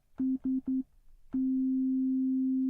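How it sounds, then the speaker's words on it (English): A pure, low sine tone from the NanoStudio 2 Obsidian synth on an iPad plays three short beeps, then after a brief pause holds one long steady note, clean and unwavering with nothing else sounding. "We have a sine wave"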